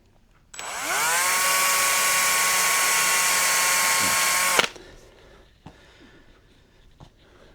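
A power drill drives screws to fit a guitar tuner, a steady whining run of about four seconds that stops sharply, followed by a few faint clicks and handling knocks.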